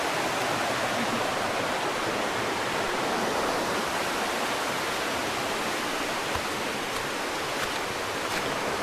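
A river rushes steadily beside a hiking trail on Bukit Batu Suloh in Perak, a loud, unbroken roar of flowing water up close, with no voices.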